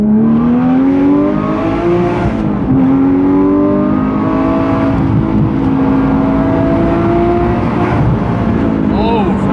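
A car driven hard through corners after a new wheel alignment, its engine note rising and falling steadily close up, with a voice talking over it throughout.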